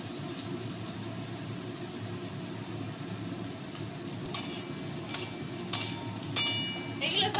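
Onion and green chili sizzle gently in a hot pan, a soft steady frying hiss broken by a few scrapes and clinks of a spatula against the metal near the end.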